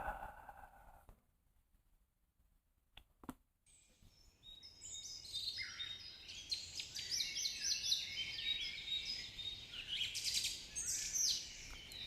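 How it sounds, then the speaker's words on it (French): Birdsong played as calming music, with many chirps and trills that start after a quiet stretch and keep going, moderately soft and steady. "le bruit des oiseaux, pour calmer, hein? Rendre zen."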